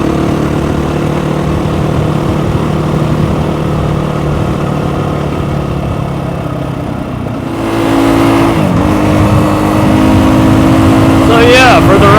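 Trailmaster TM 38E motorcycle riding on a road, its engine humming steadily with wind rush, then a gear change and rising rev near the end.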